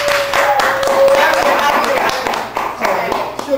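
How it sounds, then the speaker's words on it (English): An audience claps in a brief, loud burst at an introduction, with talking running over the claps throughout. "Please give her a round of applause"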